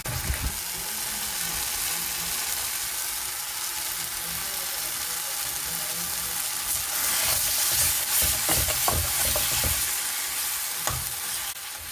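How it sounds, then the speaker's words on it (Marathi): Misal masala sautéing in oil in a pan, a steady close sizzle with scraping stirs that grow busier and louder toward the end, no voices. "चांगलं त्याला तेल सुटेल एवढं चांगलं परतून घ्यायचं"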